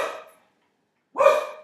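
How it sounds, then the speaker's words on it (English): A dog gives two sharp, close barks separated by about a second of silence. "dumb dog."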